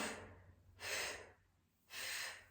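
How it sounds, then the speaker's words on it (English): A person doing a core workout breathes out audibly in slow, soft exhalations, three breathy puffs spaced about a second apart, close and quiet with no talking. "Now we're breathing out."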